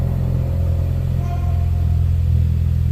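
A 2017 Ford Focus RS with a newly replaced catalytic converter and turbo oil feed idles while warming up, a steady low engine rumble with a faint mid-range hum and no speech.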